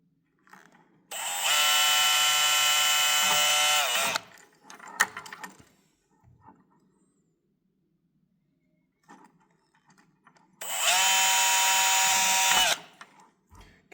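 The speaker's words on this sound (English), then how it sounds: "we're pre-drilling our holes, basically piloting our holes." Power drill boring pilot holes through a mic base plate, two sustained high whining bursts of a few seconds each, separated by quieter handling clatter and pauses.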